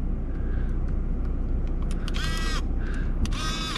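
Motorized arms on a Qi wireless charging smartphone holder whir in two short, shrill bursts of mechanical whine above a constant background rumble.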